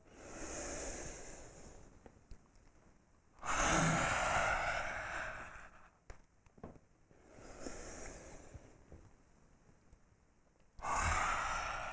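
Forceful lion's breath exhalations during a yoga flow, two strong breathy bursts with a third starting at the end, broadband rushing air, close and loud over softer breathing in between.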